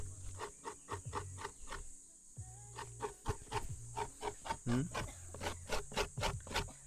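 Coconut being grated on a homemade coconut grater out in a field: rapid, evenly spaced rasping strokes in quick bursts, close and distinct, with a brief pause partway through.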